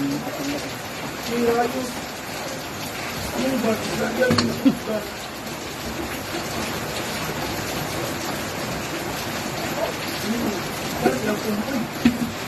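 Rain falls steadily in the background while people talk over it, with occasional small knocks and taps.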